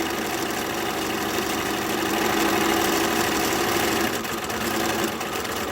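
A Bernina sewing machine running continuously as it stitches fabric masks, a steady, dense mechanical whir with rapid needle chatter, close and fairly loud, with no pauses and no voices.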